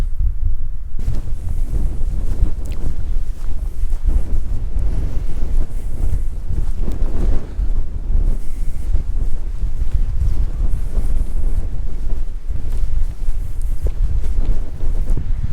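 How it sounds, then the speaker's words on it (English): Strong wind batters the microphone in loud, rumbling gusts at Llyn y Fan Fawr in the Brecon Beacons, low and continuous for the whole stretch, with no voices. "So windy down here."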